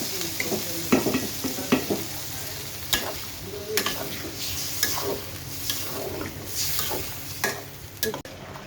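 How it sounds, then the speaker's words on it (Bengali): Fried potato and pointed gourd are stirred through a sizzling garlic spice paste for a mango and katla fish curry. The spoon scrapes and clacks repeatedly over a constant frying hiss. "সেই ভাজা আলু পটল নেড়ে চেড়ে নিই।"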